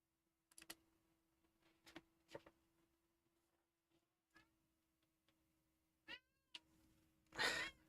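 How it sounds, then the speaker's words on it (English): A pet cat meowing loudly in a quiet room, several separate meows spread out over the stretch, ending in a longer, louder yowl, with faint ticking and a low steady hum beneath. "the cat's screaming at me"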